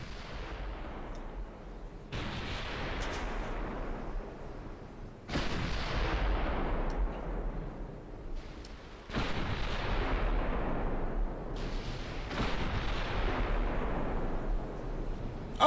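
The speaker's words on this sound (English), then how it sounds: "Chance to practice the old long-range gunnery." Long-range gunnery fire: several heavy booms, each followed by a long rumbling decay, spaced a few seconds apart and sounding distant and fairly faint.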